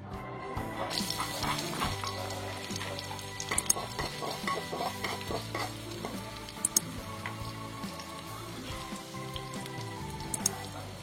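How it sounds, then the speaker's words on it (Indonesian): Steady sizzle of shallots frying in a pan, with occasional stirring clatter over a continuous tonal background. "kemudian goreng dulu bawang merah untuk bawang gorengnya"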